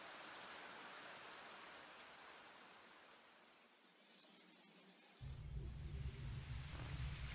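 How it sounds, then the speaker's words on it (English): Rain falls in a steady, soft hiss of drops, with a deep rumble rolling underneath before a louder, heavier wash of rain swells in toward the end. "Overhead, the rain had begun to intensify."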